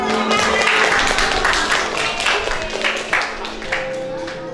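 Classroom applause for a student who led the lesson, a steady patter of many hands clapping close by, with some voices mixed in.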